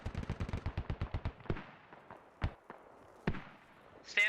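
Gunfire in the Squad video game: a rapid burst of about a dozen sharp cracks, then a few heavier isolated booms spaced apart, moderately close with a brief voice at the end.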